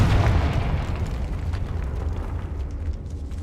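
Confringo, an explosive spell cast in the video game Hogwarts Legacy, lands as a loud booming blast that then rolls on as a sustained low rumble, with no talk over it.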